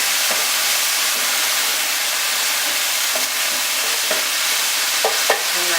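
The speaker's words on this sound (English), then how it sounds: "I might as well stir this around a little bit." A pan of vegan enchilada filling sizzles loudly and steadily while it is stirred, with a few soft scraping knocks of the utensil against the pan.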